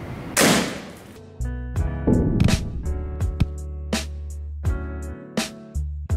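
Nitro 1300 air rifle with scope firing pellets, a run of sharp cracks spaced unevenly, each followed by a ringing tonal decay, close and fairly loud with no talk.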